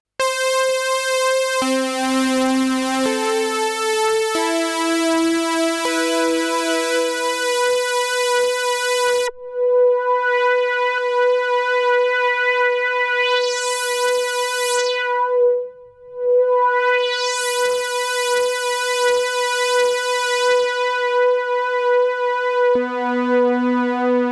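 A bright Behringer JT-4000 analog synthesizer plays sustained buzzy tones and a short stepping melody, with the filter sweeping through loud resonant swooshes.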